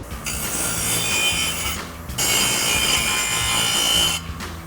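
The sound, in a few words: grinder cleaning up cut edges of exhaust pipe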